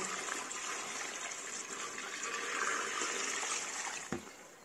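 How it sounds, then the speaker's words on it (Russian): Water pours steadily into a cooking pot being topped up for sous-vide pancetta, a continuous splashing gush lasting several seconds before a brief clunk near the end, close and fairly quiet. "Доливаю еще немножечко воды по уровню."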